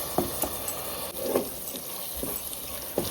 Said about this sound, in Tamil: நறுக்கின தக்காளியை இதில் சேர்த்துடலாம் இது நல்லா வதங்கட்டும்